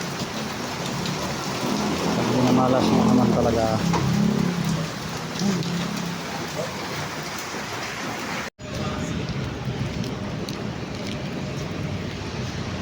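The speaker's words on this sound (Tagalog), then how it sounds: "Ay, umulan pa oh. May bagyo pa." Steady rain from a storm pours down with a dense hiss in Cubao near Araneta Center, while a person talks briefly over it; a short dropout breaks the sound midway.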